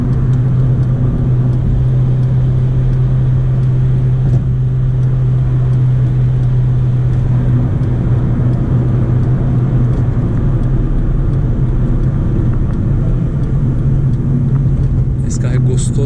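A 2011 Honda Civic LXL with a 1.8 manual gearbox accelerates on a highway. Inside the cabin, a loud, steady low engine drone blends with constant road rumble for the whole stretch.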